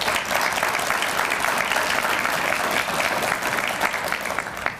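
A crowd at a Citizens Police Academy and VIP graduation for the Speedway Police Department breaks into dense, loud, continuous applause, a full wash of many hands clapping at once without letup.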